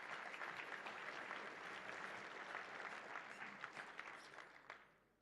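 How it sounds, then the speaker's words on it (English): Audience applause at a conference livestream as a first-place scoreboard winner is announced: a room full of steady clapping, fairly distant and moderately loud, that holds for several seconds and then fades out near the end. "So give us some applause."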